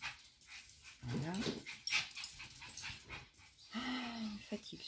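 A dog whimpers in thin, high whines, with a few short yelps, mixed with room noise and some speech nearby.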